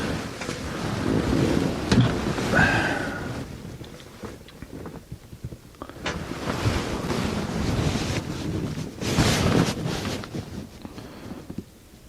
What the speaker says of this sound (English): I got a little bit of a breeze blowing in my face